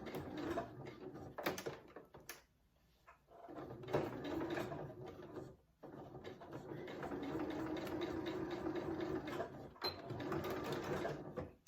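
A sewing machine stitches piping onto a cushion in a steady mechanical whir, pausing briefly twice before running on in long even bursts, close and clear.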